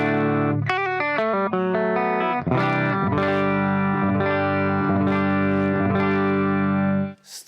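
Electric guitar through an AIWA RB1011 MKII preamp into a Tube Master amp, with a quick picked run followed by loud, saturated sustained chords struck in steady succession, close and without talk.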